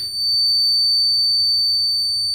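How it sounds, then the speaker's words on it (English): An electronic buzzer on a microcontroller-based RFID attendance system sounds when an invalid card is presented, giving one steady, continuous high-pitched tone that holds at an even level with no talk over it. "RFID card not valid and this buzzer is turned on."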